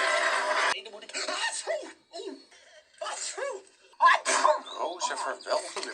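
A run of sneezes follows one another in short bursts, with brief pauses and some quiet voices and laughter mixed in between them.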